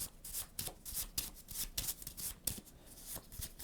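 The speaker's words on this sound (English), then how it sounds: "Let's shuffle them up." Rapid riffling and rubbing of a deck of cards for the Legendary Bond 007 deck-building board game, a dense rhythmic shuffle close to the microphone with no talking.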